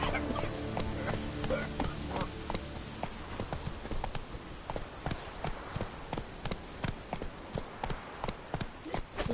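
Horse hooves clip-clopping in a steady galloping rhythm in The Witcher 3, close and clear, with faint game sounds behind and a few background voices early on.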